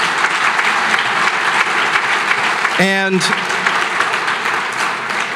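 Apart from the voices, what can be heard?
audience applause at gala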